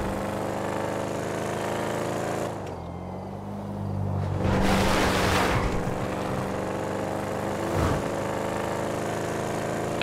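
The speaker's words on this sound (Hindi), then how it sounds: "क्या आवाज आ रही है गाड़ी की यार" Car engine in the GTA V video game revving and droning steadily while driving on a highway, with a dip in level and then a louder surge midway, loud and close with no talk.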